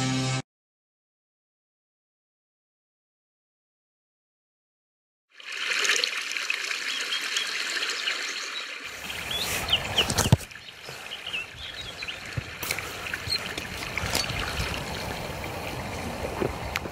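After a stretch of silence, tap water starts running in a steady, close trickling stream, with one sharp knock partway through.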